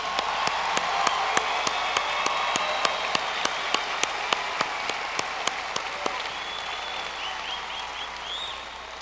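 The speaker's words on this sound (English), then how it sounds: "So I'd like all the students to give the advisors and the judges a round of applause." A large crowd of students applauds the advisors and judges at the opening ceremony of a national conference, a steady dense wash of clapping lasting throughout, with a few sharp louder claps standing out near the front.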